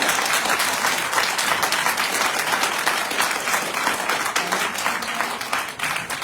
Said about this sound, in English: the applause was too loud for me to actually hear